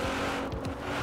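Engine of a Nissan GT car in Forza Horizon 4, a brief loud steady drone with a slight pitch wobble, heard alone.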